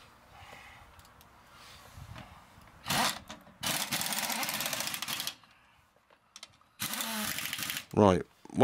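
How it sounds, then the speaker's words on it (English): Pneumatic air gun running a Land Rover Defender's wheel nuts on in several loud, close bursts of a second or two each, with quiet gaps between them and a sharp rattle at the end. "So I'll just quickly whiz these up with the air gun"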